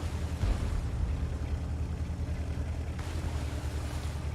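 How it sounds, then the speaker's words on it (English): A light tank ploughs through water in World of Tanks, pushing a bow wave; a steady, dense rush of splashing water and low engine rumble runs continuously, close and fairly loud, with no voices. "You see how fast this thing moves through the water. It creates a lovely little bow wave."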